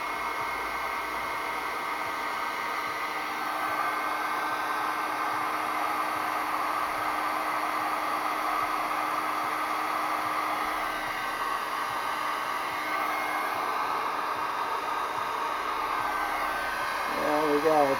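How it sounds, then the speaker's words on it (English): Heat gun blowing a steady, close, continuous hiss and whir while shrinking heat shrink tubing over an LED rope light joint, with no pauses across the whole stretch. "invest in a heat gun, and you'll find it's a lot quicker and easier doing it this way"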